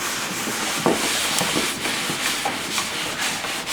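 Hands rubbing grease into a drum head to prepare it for winter, a steady broadband rubbing and scraping texture that continues throughout at close range with no talk.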